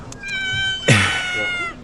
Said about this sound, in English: Look at this. Another little kitty.